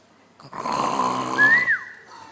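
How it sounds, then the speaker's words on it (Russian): A woman snores in a long, rough inhale with a whistling rise near the end, a single loud drawn-out snore that trails off into quiet. "Да точно она храпит."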